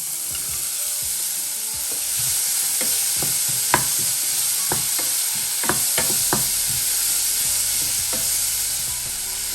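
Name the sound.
sautéing chopped capsicum in a pan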